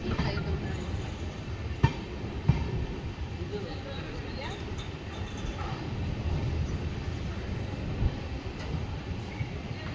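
The Talaguppa–Mysore Intercity Superfast Express with new LHB coaches rolls along, giving a steady low rumble with a couple of sharp clacks, and voices are faintly audible beneath it.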